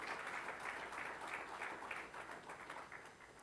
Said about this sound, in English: let's give a round of applause for all those who are paying levies to MICT-SETA.